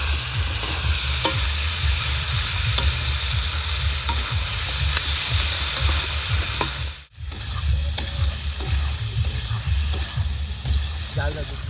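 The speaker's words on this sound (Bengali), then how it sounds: "লবণ দিয়ে দেবো। এখন ভালো করে কষাবো।" Chicken skin with salt is stir-fried in a pan, giving a loud, close sizzle under repeated scraping and stirring strokes. It drops briefly near the middle, then resumes with steady crackling.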